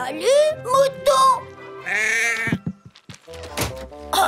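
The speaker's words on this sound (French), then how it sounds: "Salut, mouton." Animated sheep in a Thomas & Friends cartoon bleat in a few loud, wavering calls close by, followed by soft clunks and knocks.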